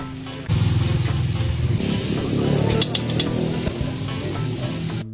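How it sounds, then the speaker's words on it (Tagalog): Butter melts in a hot frying pan before garlic and small fish go in. A steady, close sizzling hiss starts abruptly and holds at an even level, with no talking. "Nainit muna nga natin ang kawali bago natin lagyan ng mantikilya."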